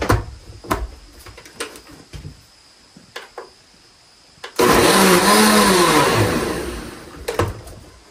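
A blender whirls goldenrod plant covered in vodka, starting abruptly mid-clip as a loud, steady roar with a rising then settling motor pitch, following quieter clicks and handling knocks.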